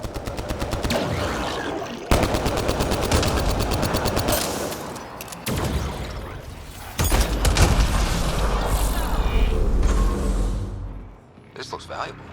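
Rapid bursts of automated turret gunfire from Mass Effect Andromeda rattle loud and close, broken by brief pauses and a booming impact, with dense battle noise throughout.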